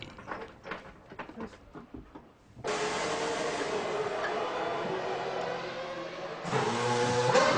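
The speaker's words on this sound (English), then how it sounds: "We're just going to wait while Jos Verstappen comes out the garage" An Arrows Formula 1 car with a Cosworth engine pulls out of the garage at the British Grand Prix, a sudden loud, steady engine roar that rises again near the end, following a stretch of quieter pit-lane murmur.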